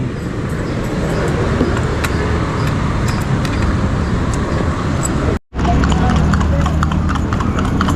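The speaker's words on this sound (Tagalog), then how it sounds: "Kabayo" Horse hooves clip-clop in a steady, brisk rhythm over a constant road rumble on a night street in Malate, with a momentary break in the sound midway.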